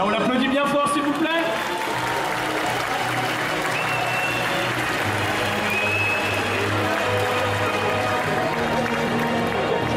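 An indoor festival crowd claps and cheers for a cosplay contestant, with dense, loud applause held steadily for ten seconds and a voice heard over it at the start.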